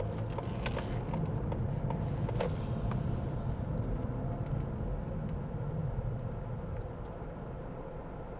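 Steady broadband traffic rumble of cars passing outside on a street, continuous and fairly loud with no distinct individual pass-bys, easing slightly toward the end.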